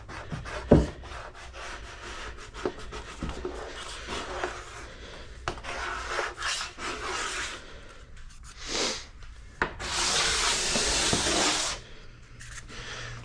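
A plastic scraper scrapes wax off a snowboard base in repeated rough strokes of varying length, close and fairly loud, with one longer continuous pass near the end.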